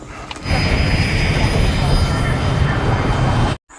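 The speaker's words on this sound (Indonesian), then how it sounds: "Kapten Connie dan Samuel segera memulai penyalaan pesawat untuk secepatnya lepas landas." Jet airliner engines spooling up before takeoff, a loud, steady broadband roar with a high whine that holds for several seconds and then cuts off abruptly.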